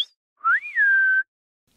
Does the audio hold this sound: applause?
no